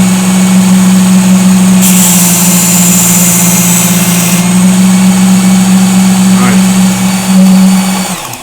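A Work Sharp Ken Onion MK2 knife sharpener runs close and loud with a steady motor hum and a constant whine, and a brief rise in grinding hiss partway through.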